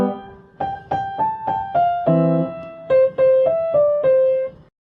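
Piano notes played in a steady phrase with both hands together, a low bass note sounding under each melody note, clear and close with no talking.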